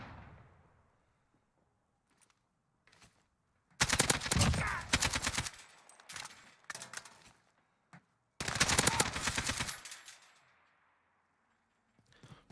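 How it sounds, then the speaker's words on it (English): AK rifle fire in Modern Warfare II, two loud close bursts of rapid automatic shots with a few scattered single shots and quiet gaps between. "Modern Warfare AK actually feels really nice."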